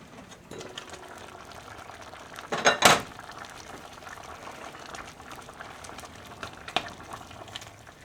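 Shipwreck stew bubbling in a cast iron pot, a low steady simmer broken by a loud scrape and clatter of a spoon stirring, then a lighter clink later.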